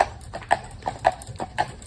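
A Clydesdale mare walks with steady clip-clopping hooves, the soft rhythmic hoof falls moderately close and unaccompanied by talk.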